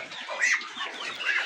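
Golden Misri chicks, young desi chickens, give thin high cheeping peeps in a short steady run, close by, with no talk over them.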